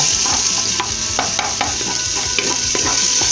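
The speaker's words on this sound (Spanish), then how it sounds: "Vamos a jalar bien nuestra cebolla y seguir moviendo." Chopped onion frying in a fast-heating pot, a constant loud sizzle with repeated scraping clicks of a spoon stirring at an irregular rhythm throughout.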